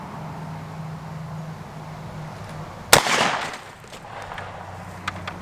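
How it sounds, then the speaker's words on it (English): .223 rifle firing one 55-grain full metal jacket round at a Kevlar helmet outdoors, a single sharp crack midway followed by a brief rumbling decay, with quiet background before and after. "We are shooting a 55 grain full metal jacket 223"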